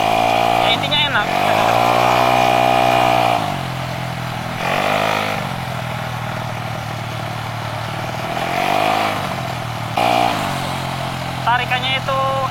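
Honda Scoopy scooter with a bore-up engine running on Pertamax Turbo, revved hard in repeated bursts that climb in pitch and then fall back to a rough idle, close up and loud, with someone talking between revs.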